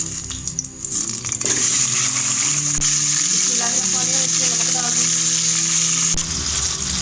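Loud, steady sizzling of meat frying in ghee in a karahi for a Lahori chicken karahi, close and continuous with occasional stirring clatter and a few sputtering pops.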